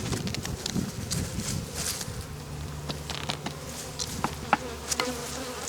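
Bees swarm and buzz around an opened beehive during spring cleaning, a dense close drone with individual bees zipping past the mic and a few soft knocks from the hive.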